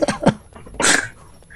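A dog attacking in a video game, a short burst of growling and snarling followed by a louder snapping bite-like sound, all over in about a second and a half.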